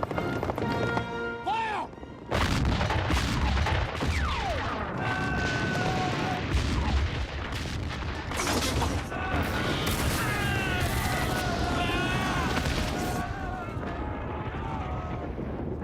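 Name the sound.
artillery and gunfire from a war drama battle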